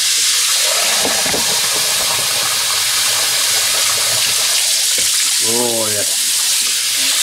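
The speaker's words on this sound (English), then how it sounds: "let's give this a proper good rinse out" Water rinses out a diesel heater after cleaning with oven cleaner, a steady loud hissing spray close by throughout, with a few brief knocks and a short spoken remark near the end.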